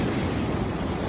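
Ocean surf washing onto the rocky shore at Jeffreys Bay, a steady broadband rush of water with wind noise across the microphone, continuous and fairly close, no voices.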